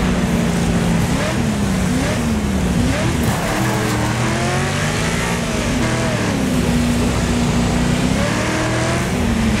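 A car in the Wreckfest racing game brakes hard while its back end slides out, its engine droning loudly and continuously as a shifting tire squeal wavers over the top.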